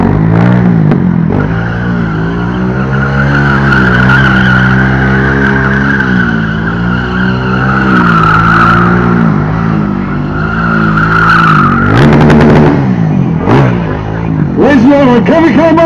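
A KTM 1290R motorcycle roars loudly with sustained tire squeal, the engine note rising and falling as it slides, then sharper revving bursts near the end, with voices and cheering mixed in.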